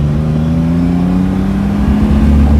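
A 1967 Mercedes-Benz 250 SL W113 Pagoda engine accelerating in second gear, a loud close droning hum that climbs steadily in pitch as revs rise.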